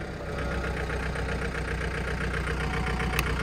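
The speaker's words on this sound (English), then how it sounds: "It's in C. At idle. See how it almost stalls?" A 2006 John Deere 4720 tractor engine idles in gear, a steady low throb with a rough pulsing rhythm as if close to stalling, heard nearby without talk.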